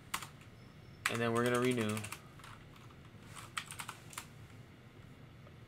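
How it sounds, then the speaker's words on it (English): Arrow keys on a computer keyboard are tapped in quick bursts of crisp clicks, first at the start and then scattered later, while someone speaks briefly over them. "I'm just hitting the arrow key on my keyboard"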